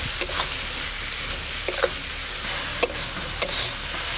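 A tomato curry with mustard and dried red chili paste and a little added water sizzles and bubbles steadily in the pan, with a few sharp scrapes and taps of a spoon cutting through the continuous hiss.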